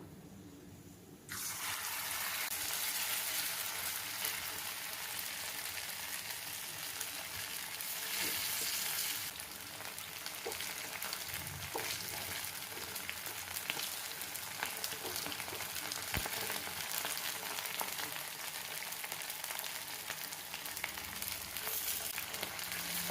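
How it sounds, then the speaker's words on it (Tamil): Chicken for garlic chicken drops into hot oil in a pan and starts a sudden, sustained sizzle that continues steadily for about twenty seconds, with occasional soft stirring clicks. No voices are heard. "ஆயில் சூடானோடனே சிக்கன் எல்லாமே போட்டு ஃப்ரை பண்ணி எடுத்துடலாம்."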